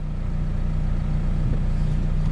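A car idling in a traffic jam, a steady low engine rumble held throughout, close and fairly loud with no talk.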